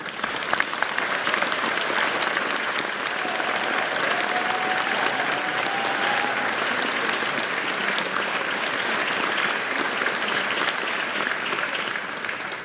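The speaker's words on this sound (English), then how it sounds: "Can we please ask the four nominees to stand, and we'll give them one more round of applause." Sustained audience applause for four award nominees at a South Australian of the Year awards ceremony, a dense, steady clapping from a large crowd lasting throughout with no speech.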